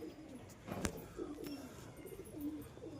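Pigeons coo softly in a loft, low throaty calls repeating several times at moderate distance, with a brief flutter or knock partway through and no one speaking.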